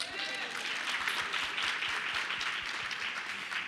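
Audience applause at a women's health day event at Newark Beth Israel Medical Center, a steady patter of many hands clapping together, moderately loud and continuous for a few seconds.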